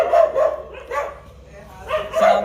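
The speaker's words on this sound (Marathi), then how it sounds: "मॅम कुत्रे सुटले नाही." A dog barks in several sharp, close bursts while voices are heard nearby.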